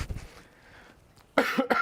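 A single sharp cough bursts out near the end, with a second smaller hack right after, following a stretch of quiet room tone.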